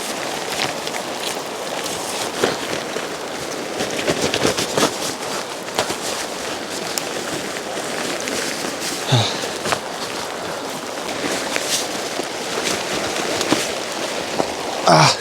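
Heavy rain falling at a mountain river campsite, a dense continuous patter and rush of drops on gear and ground with sharp close taps, loud and near throughout.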